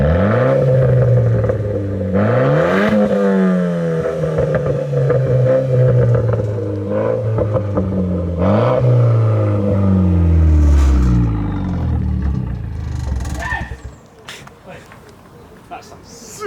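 Renault Clio MK4 RS with a cheap aftermarket exhaust starting up and revving, loud and close, engine pitch repeatedly climbing and falling through several blips before settling to idle, with people talking over it.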